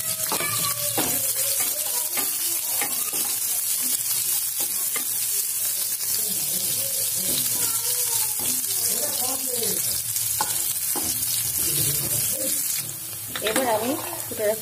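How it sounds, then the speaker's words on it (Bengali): Onion sizzling in hot oil with nigella seeds and green chillies, a continuous loud frying hiss with stirring scrapes throughout and a brief clatter near the end. "দিয়ে ভালো করে ভেজে নেবো।"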